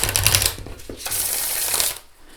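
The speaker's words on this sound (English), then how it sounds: "I actually riffle shuffle this deck in 2 piles" A riffle shuffle of a thick card deck: a rapid fluttering burst of cards interleaving, close and fairly loud, then a quieter settling at the end.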